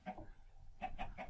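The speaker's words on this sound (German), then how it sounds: "Noch ein Huhn? Ah, noch ein Huhn." A Minecraft video game chicken clucks in short, soft bursts, a couple of quick clucks and then three more after a brief pause.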